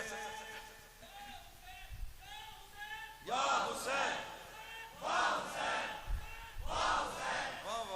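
A crowd at a Muharram religious gathering shouts a slogan in unison, three loud, full bursts of many voices separated by brief pauses, with a voice leading before them.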